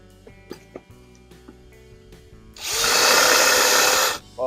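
A Dewalt DCD805B 20V Max hammer drill starts up and drills steadily at speed 2 for about two seconds, loud and close, after a few quiet handling clicks, then stops abruptly.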